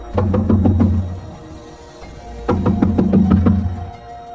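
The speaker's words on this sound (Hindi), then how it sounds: "जोर से दरवाजा खटखटाती है" Loud knocking on a door comes in two bursts of about five or six hard, rapid raps, separated by a short pause, close and heavy with no voices.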